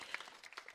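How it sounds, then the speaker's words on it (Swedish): Audience applause greets an expert, a senior professor of administrative law, as she is welcomed up at a public discussion on refugee reception; a faint, brief patter of clapping with no talk. "Applåd."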